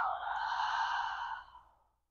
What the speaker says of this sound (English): Open your mouth and exhale.